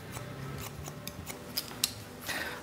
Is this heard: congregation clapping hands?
no